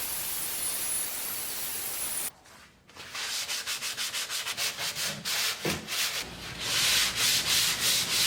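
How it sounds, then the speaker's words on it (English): Hand sanding across a wooden paddle board, a run of quick rhythmic rubbing strokes that grow into steady, louder scrubbing toward the end, with a brief pause early on and no talking. "we just got done sanding"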